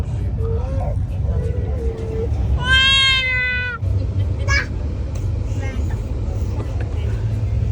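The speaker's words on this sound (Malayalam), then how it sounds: "ബെറാക്കിയുടെ സൗണ്ടാണ് കേൾക്കുന്നത്. കേട്ടി കാണിച്ചു തരാം. ബെറാക്കി കരയുന്നു." A cat gives one clear, drawn-out meow, preceded by a couple of softer cries, over a constant low rumble of a moving vehicle on a Mumbai-to-Kerala trip, with a person talking briefly nearby.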